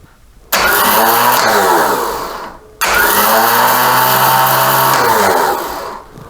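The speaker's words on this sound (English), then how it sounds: "Okay, I have a functional starter motor." Starter motor off a 1983 BMW R80ST, bench-tested by powering its solenoid, whirs loudly at high speed in two bursts, each starting abruptly and then winding down, with a short pause between.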